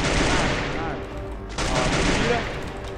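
Gunfire in a competitive shooter video game, a dense burst of loud shots and noise filling the first half, a brief drop, then another sustained volley under game sounds.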